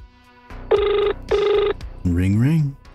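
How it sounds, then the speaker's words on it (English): A telephone rings twice in a horror video game, two bright metallic bell bursts close together, followed by a voice speaking. "Ring, ring."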